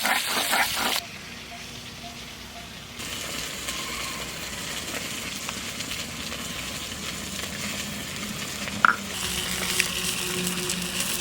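Fish frying in oil in a village home kitchen, a soft steady sizzle that runs throughout at low volume, with a brief quieter stretch early on and a small clink near the end.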